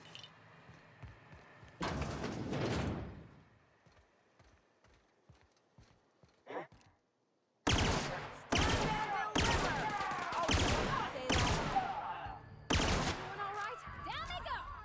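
Repeated loud gunfire from a gun in the video game The Outer Worlds, bursts of close shots in rapid succession with a short quiet gap midway, mixed with game effects.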